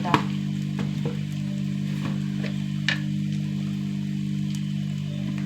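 Turmeric, chilli and coriander powders fry in a pan, a soft, even sizzle beneath a low steady hum, broken by a few faint stirring clicks.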